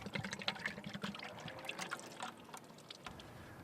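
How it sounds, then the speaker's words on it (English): Water-based epoxy Part 1 pours into a 5-gallon mixing bucket, a soft, close trickling splash with irregular glugs that carries on steadily, then eases off toward the end. "you take Part 1 and you pour it into your mixing container"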